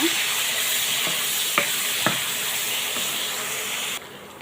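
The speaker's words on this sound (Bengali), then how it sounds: "পেঁয়াজটাকে এখন আমি লালচে করে ভেজে নেব" Chopped onions fry in oil in a pan and are stirred, a steady close sizzle with a few sharp scraping taps from the spoon before the sound cuts off.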